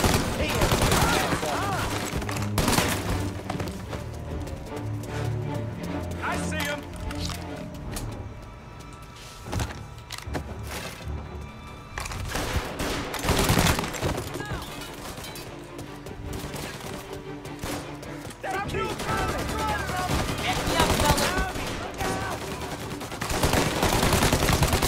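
Tommy gun gunfire in the 1930s gangster shooter Mafia: Definitive Edition, loud repeated bursts of automatic fire and sharp shots with gaps between volleys, amid other game noise.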